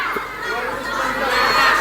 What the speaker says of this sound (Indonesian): Kalau semua teriak saya nggak bisa dengar.